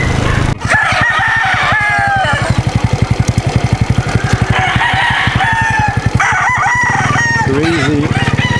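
Roosters crow loudly and repeatedly at a rural spot in Davao, long wavering calls overlapping one another above a fast, steady mechanical chugging, like a nearby engine, that runs throughout.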